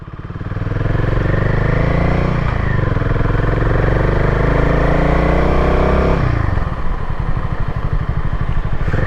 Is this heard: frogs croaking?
no